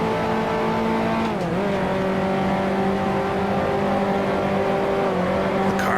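A race car at Spa slides into a corner near Blanchimont and gets back on the throttle. Its loud, close engine drones steadily with a brief dip in pitch before pulling hard again.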